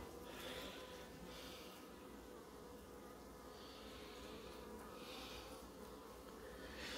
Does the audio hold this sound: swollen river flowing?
no